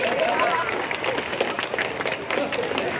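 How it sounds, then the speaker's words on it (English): Audience applause at a freak show performance, a steady wash of clapping from a crowd lasting several seconds, with voices mixed in. "Give Abby a round of applause for helping out,"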